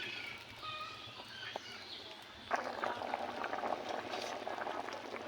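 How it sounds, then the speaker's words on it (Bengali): Curry broth of taro and water in a pot comes to a boil, with faint simmering at first and then a steady, fuller bubbling and rolling hiss from midway on, alone and close. "ঝোলটা ভালোভাবে ফুটে গিয়েছে"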